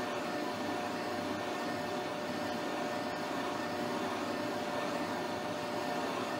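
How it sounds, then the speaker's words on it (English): A horizontal boring mill opens a hole to 50 mm under manual feed, giving a loud, steady, unbroken machine drone with a constant broadband whir and no pauses. "So I'm using manual feed for the boring operation here."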